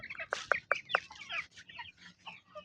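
Domestic chickens clucking close by, a quick run of sharp clucks at the start followed by softer, overlapping chatter from several birds.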